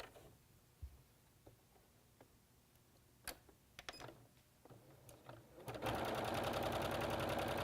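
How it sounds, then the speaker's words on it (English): A sewing machine stitches quilt fabric for quarter square triangle hourglass blocks, scattered clicks and handling taps first, then a loud steady mechanical whir starting near the end, close and with no talking. "We'll sew on one side of the line."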